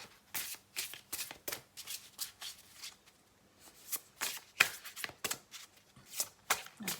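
Tarot cards shuffled by hand up close, a series of crisp riffling bursts that start and stop in an uneven rhythm, with short pauses between them and no talking.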